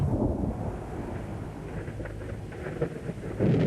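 Low, rolling thunder from a thunderstorm rumbles continuously, with rain and wind noise mixed in and a sharper crack building near the end.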